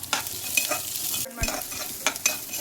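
Peppercorns, cloves, cinnamon and cumin fry in a pan for mutton leg soup, giving a steady sizzle broken by scraping stirs and a few clinks of the spoon, close and without talk.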